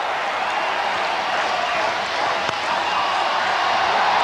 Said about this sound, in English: First ball, and listen to the crowd.